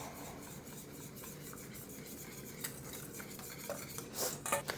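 Sweetened condensed milk mixture whisked for homemade vanilla ice cream, a faint steady swishing and light clinking of a whisk in a bowl, growing a little louder toward the end.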